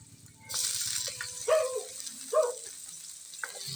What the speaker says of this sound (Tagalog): Gisa-gisa lang hanggang lalabas yung kanyang aroma.